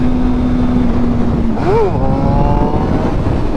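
A motorcycle revs up hard in second gear to lift into a wheelie, the engine note climbing and dipping with a shift over steady loud wind rush, recorded close on the bike while riding.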